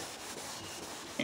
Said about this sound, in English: was to clean the headlight cover to remove any dirt